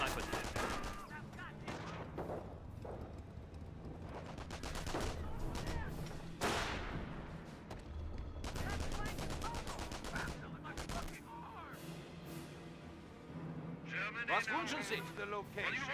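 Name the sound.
gunfire in video game Company of Heroes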